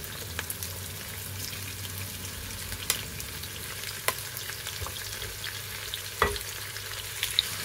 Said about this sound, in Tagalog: let's put the pork on the top of the onion